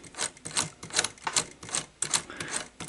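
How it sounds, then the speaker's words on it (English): Gears inside a Sony SL-HF450 VCR in need of repair thread the tape around the drum. Rapid, evenly paced mechanical clicking and ratcheting sounds close up, with no voices. "As you can see, now we're threading the tape around the drum."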